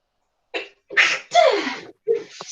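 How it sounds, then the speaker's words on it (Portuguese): A person sneezes loudly and close in a quiet room, with a short intake, a sharp double burst, and a brief trailing breath after. "Espirrei."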